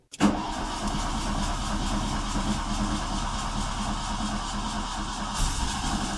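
A 1987 Turbo GTI engine cranks briefly, then fires and settles into a rough, steady running rumble, loud and close.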